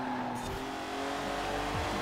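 Naturally aspirated V6 engine of an MG Metro 6R4 rally car in Forza Horizon 4, revving with rising and falling pitch and a brief tire squeal, fairly faint and continuous with no voices.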